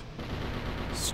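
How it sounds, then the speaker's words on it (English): A squad of cannons fires in the Symphony of War video game, booming as a dense, loud burst of overlapping blasts. "that kind of a squad full of cannons does its job"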